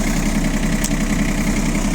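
An ISEKI SIAL TF223F Japanese tractor engine idles in a steady, continuous low rumble with a constant vibrating drone, close and moderately loud, with no talking.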